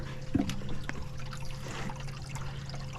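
Water gurgles and trickles steadily under a low pump hum as a boat's live well recirculation pump pumps water back in to aerate it, with a small splash near the start, close by and moderately loud.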